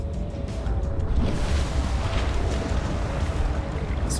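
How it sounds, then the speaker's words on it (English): An underwater thermal vent in the video game Subnautica gives off seismic activity as a deep, continuous rumble under water, steady and fairly loud, with a faint tonal hum running through it. "Seismic activity rumbling in the water."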